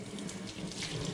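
Water runs from a tap into a kitchen sink in a steady, close, moderately loud splashing stream, with no speech.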